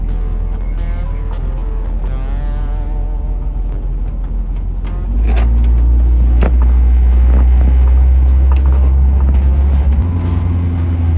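A 34-year-old vehicle that had sat unused for a month and a half idles with a steady, loud low rumble. Its engine is down on power. Partway through, the rumble swells deeper and heavier and holds there.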